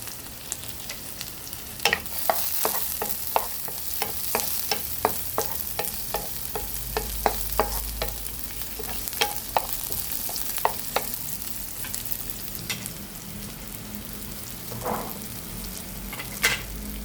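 Tomatoes (kamatis) frying with corned beef in a pan, with a steady sizzle under repeated sharp scraping and stirring clicks from a utensil, close and fairly loud, with no talk.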